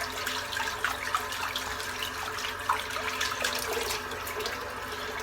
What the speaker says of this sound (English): I'll just rinse the soap out a bit